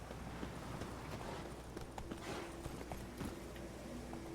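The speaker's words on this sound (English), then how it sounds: "Ahí viene el caballito." Horse hooves clip-clop in a video game, a steady run of hoofbeats over continuous in-game ambience with no talking.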